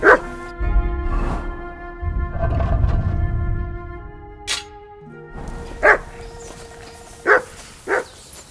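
A dog barks and whimpers in Kingdom Come: Deliverance II, with a few close barks and yips set apart by pauses over faint game music and ambience.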